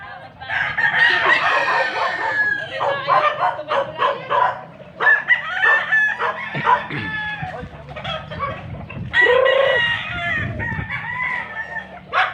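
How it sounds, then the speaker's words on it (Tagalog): A rooster crows loudly and repeatedly, mixed with busy clucking from several chickens close by, with occasional voices in the background, in rural Mendez, Cavite, Philippines. "Nasaan na kaya mga manok dito, Abet?"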